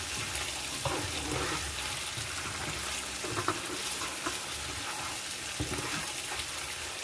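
Cardamom seeds sizzle in a hot pan while a chicken Madras curry is being cooked, a loud, continuous frying hiss with scattered crackles and pops that stays steady throughout.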